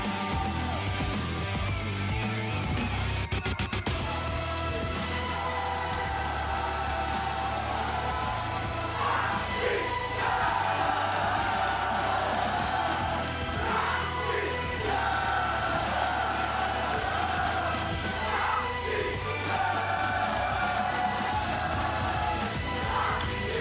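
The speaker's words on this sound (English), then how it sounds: "They have been chanting, they have been singing, they have been stomping and clapping" An esports arena crowd chants and cheers for paiN Gaming during an LTA Americas match against 100 Thieves, with rhythmic bursts of massed voices rising and falling over a continuous roar of the hall.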